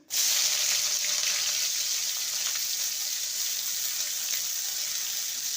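Chopped onions drop into hot oil and sizzle loudly at once, a close, steady hiss that stays strong and even for several seconds with no voices.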